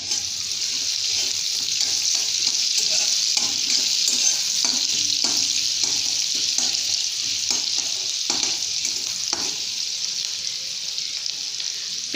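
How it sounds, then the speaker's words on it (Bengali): Chopped onions with garlic, green chilli and a pinch of salt sizzle steadily in a hot pan, close up, while a spatula scrapes and stirs them in repeated strokes over the constant frying hiss. "এবার আমি এটাকে ভাজা ভাজা করে নেব।"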